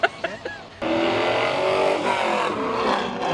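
2020 Vanderhall Venice Blackjack three-wheeled vehicle registered as a motorcycle, heard at a poker run event: a few sharp clicks, then the engine roars up into a loud, steady, close-range drone.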